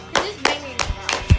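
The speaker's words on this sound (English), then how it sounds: "clap your hands" Four separate sharp hand claps at a slow, uneven pace ring out nearby, with a faint murmur of background voices between them.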